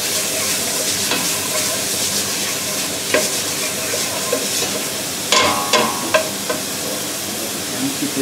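Vegetables sweat gently in a pan with a little oil, giving a continuous low sizzle under scraping stirs, with sharper clinks and knocks of a utensil against the pan toward the end.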